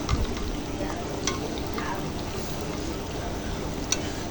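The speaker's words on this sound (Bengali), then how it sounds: "টমেটো পেঁয়াজ দিয়ে খল্লা মাছ রান্না করব" Khalla fish cooks in a pan with tomato and onion, making a continuous frying sizzle broken by a few scraping stirs and faint clicks. The sound is moderately close and carries no talk.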